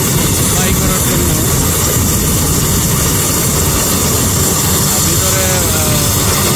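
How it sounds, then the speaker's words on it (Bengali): A PHP Group helicopter getting ready for takeoff, its engine and rotor making a loud, constant close-up roar and whine that fill the whole clip, with someone talking under the noise. "দেখতে পাচ্ছেন পিএইচপির ফ্যামিলির যেই এয়ারক্রাফট হেলিকপ্টার ক্যাপ্টেন উনি প্রস্তুত নিচ্ছেন ফ্লাই করার জন্য"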